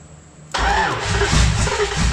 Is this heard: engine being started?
yes